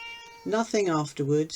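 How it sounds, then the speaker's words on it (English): A house cat meows close by, three drawn-out, rising and falling calls in quick succession, while someone talks quietly nearby. "excuse my cat"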